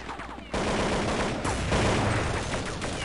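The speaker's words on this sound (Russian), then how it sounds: "Это ОПНаш стреляет же." Heavy gunfire bursts in Counter-Strike 1.6, loud, dense and continuous, with a sharp jump in intensity after half a second and sustained rattling to the end.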